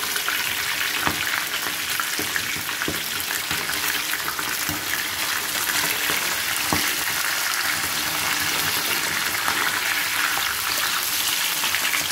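A whole katla fish marinated with turmeric, salt and mustard oil, deep-frying in mustard oil with a loud, constant crackling sizzle and occasional sharper pops, no voices.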